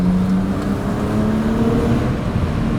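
A BMW 135i with the N54 twin-turbo engine and aftermarket downpipes drones loudly from inside the cabin, a steady throaty exhaust with a rising whine as the turbo spools.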